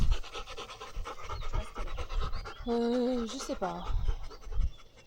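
A dog pants close by in quick, rhythmic breaths and scratches now and then. People talk quietly over it.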